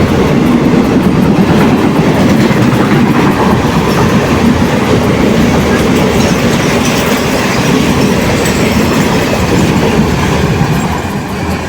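A train rumbles past loud and close through Sindhudurgnagari railway station in Konkan, wheels clattering steadily over the rails for the whole stretch with no voices.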